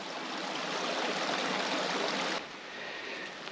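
Water pours steadily down the Termes waterfall cascade over heaped rocks, a loud, dense rushing roar that drops slightly in level near the end but keeps flowing with no voices.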